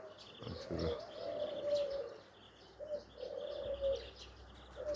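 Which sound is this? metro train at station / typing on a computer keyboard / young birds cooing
young birds cooing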